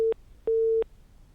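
A telephone busy tone after a caller's line drops: short, steady electronic beeps, one brief and one longer, clean and moderately loud against a quiet line.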